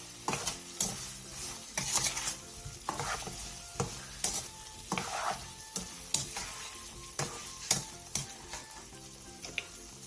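A spoon stirs a Korean side dish as it sizzles in a pan, with sugar just added; close, steady frying crackle with repeated scraping strokes of the stirring throughout.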